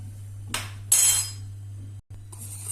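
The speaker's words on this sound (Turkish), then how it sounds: "İyice bir karıştıralım." A spoon stirs starch into a thick milky dessert mixture in a pot, making a few close scraping strokes against the metal over a steady low hum, with a brief silence partway through and no talking.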